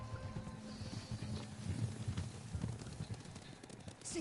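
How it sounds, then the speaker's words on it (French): Horses in the game Ghost of Tsushima approach through tall grass, a steady muffled patter of hooves under rustling ambience and faint background voices, growing a little louder midway. "Des chevaux, ils viennent vers nous."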